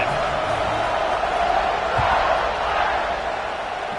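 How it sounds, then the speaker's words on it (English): A stadium crowd in a football video game roars steadily, a broad, even wash of noise with no distinct peaks, while a commentator talks over it. "this crowd is feeling themselves after that last drive"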